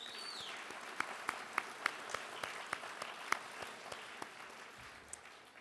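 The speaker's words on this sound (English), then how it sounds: "Let's give our community outreach honorees another round of applause." Audience applause for community outreach honorees at a healthcare awards event, a soft, steady patter of many hands with a few sharper individual claps standing out, heard from some distance in a large room.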